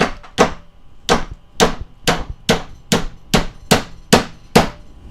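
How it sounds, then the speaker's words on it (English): A hammer strikes metal silverware to bend it over, giving about ten sharp, evenly spaced clanging blows, each ringing briefly. The blows are loud and close, with no talking. "If you can't bend it, use your hammer."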